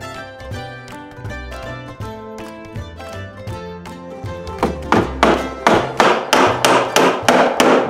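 A hammer strikes wooden supports of a small DIY canopy repeatedly in a steady rhythm, thuds growing louder and sharper toward the end, close by with no talking.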